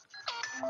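A smartphone gives a brief electronic chime as flash charging starts: a quick, fairly faint tone that rises, heard alone.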